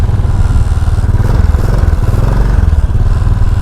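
Royal Enfield 535 Continental GT single-cylinder engine idles right after a kick start, a loud, close, steady thumping beat with mechanical clatter and slight unevenness in the rhythm.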